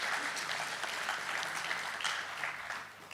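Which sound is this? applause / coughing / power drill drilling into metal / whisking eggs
applause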